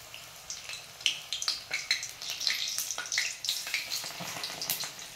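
Alu vadi, colocasia leaf rolls, fry in hot oil in a rustic home kitchen with a steady bubbling sizzle and scattered crackles and pops throughout, close and moderately loud, with no talking.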